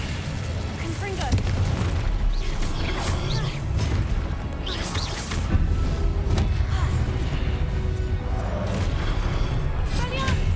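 Hogwarts Legacy combat with Confringo blasting-spell explosions: repeated booming bursts and crashes over a few seconds, loud and layered with spell effects, while a voice speaks over the action.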